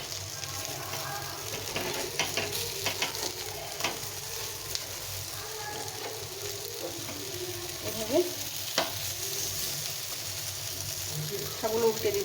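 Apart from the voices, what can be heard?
frying flattened rice and carrot dish in a pan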